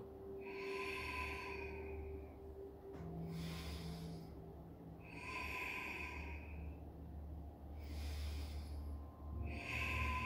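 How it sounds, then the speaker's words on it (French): Slow, deep abdominal breaths in pranayama yoga practice, each long nasal inhale filling the belly and followed by a steady exhale, repeating in an even rhythm of about five breaths, close and quiet. "En inspirant par le nez, je remplis mon ventre."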